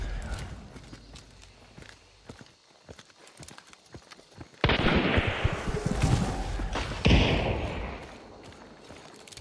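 Horse in the game Hunt: Showdown, its hooves clip-clopping in a steady walking rhythm amid game ambience, with occasional distant gunshots and louder noise bursts later on.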